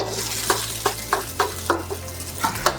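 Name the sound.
stir-frying beef in fried rice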